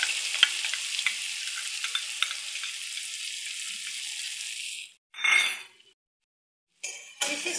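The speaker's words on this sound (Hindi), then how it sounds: "अब इसमें हम कटा हुआ प्याज डालेंगे।" Chopped onion frying in a pan with roasted cumin gives a steady loud sizzle with small clinks of stirring for about five seconds, then it cuts out, with a short hiss burst and a brief return after a silent gap.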